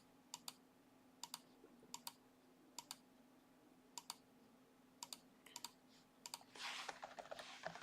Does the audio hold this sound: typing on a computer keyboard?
yes